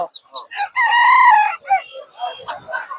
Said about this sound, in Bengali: দেখতে পাচ্ছেন মুরগিগুলো দেশি মুরগি